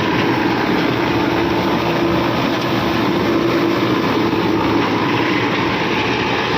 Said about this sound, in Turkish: Traktör hiç zorlanmadan gayet rahat gidiyor.